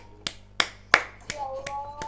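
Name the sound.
hand clapping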